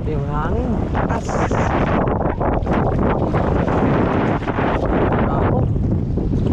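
Strong wind buffets the microphone in loud, continuous gusts, with rushing water and brief voices mixed in beneath the roar.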